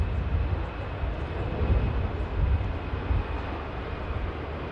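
A Finnair airliner taking off from Manchester Airport gives a steady, broad, rumbling jet roar that swells slightly and holds at a fairly far distance, with no voices over it.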